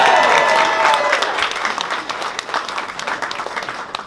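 A stand-up comedy club audience applauds, loud at first and thinning into scattered individual claps as it tapers off.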